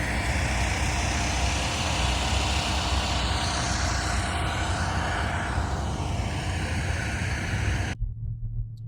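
Steady broadband road and engine rumble inside a car driving home from Albany and Saratoga, continuous and loud with no talk, cutting to near silence at the very end.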